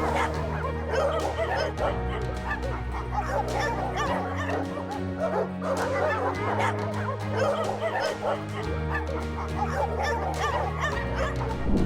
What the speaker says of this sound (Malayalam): ഈ നായയെ നോക്കൂ വീട്ടിലെ ആളിനെ രക്ഷിക്കാൻ വേണ്ടി ഭ്രാന്ത് പിടിച്ചിരിക്കുന്ന ഈ കരടിയുമായി പോരിടുകയാണിവർ